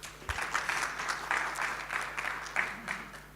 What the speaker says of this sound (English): Let's give him a better clap.